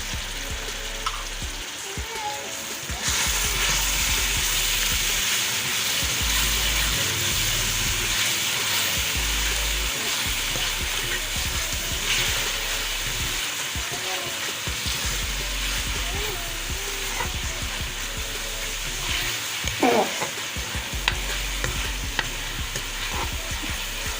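Tomato paste sizzles and fries in a pan for chicken korma while a utensil stirs and scrapes through it in repeated strokes, a close, loud, continuous frying hiss with clattering contact sounds.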